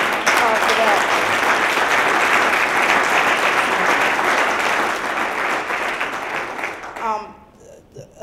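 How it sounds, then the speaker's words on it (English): An audience applauds loudly and continuously for about seven seconds before the clapping thins out and fades. "So I just want to just give you guys a round of applause for that."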